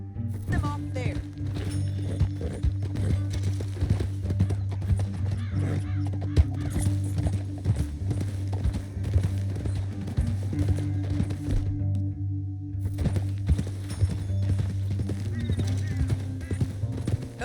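A horse gallops steadily in Red Dead Redemption 2, its rhythmic hoofbeats running continuously under voices talking and game sounds.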